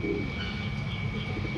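Racing pigeons arrive at a loft after a 63 km club training flight in Paete, Laguna: soft bird cooing sits over a steady, even background hum for a brief moment.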